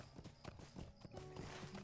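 Horse hooves clip-clop in the Lord of the Rings Online video game, a quick run of hollow, evenly spaced hoof strikes, fairly quiet and alone, with a faint whinny-like tone near the end.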